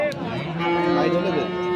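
A Holstein Friesian bull at a cattle market in Ambari gives one long, loud, drawn-out moo close by, steady and sustained over faint background noise.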